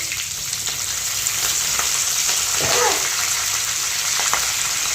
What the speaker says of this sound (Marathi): याच्यामध्ये आपल्याला तडका मिरची आणि हिरवी मिरची जी येतील ती टाकायची त्याच्यानंतर एक दहा कढीपत्ता टाकायचा